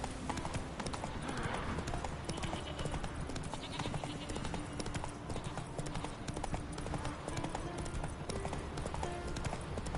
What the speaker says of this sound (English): There goes Roach and stuff and everything, dude.